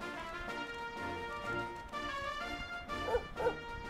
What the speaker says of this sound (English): It's a dog.